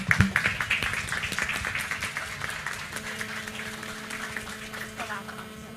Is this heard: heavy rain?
no